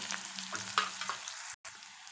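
An onion mixture for Malvani-style kande pohe fries in a pan while being stirred, with a soft, quiet sizzle and a few scraping strokes, briefly cutting out near the end.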